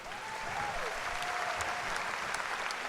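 A room full of people applauds steadily, with a dense, even wash of clapping from a seated audience at a gathering honoring cancer survivors.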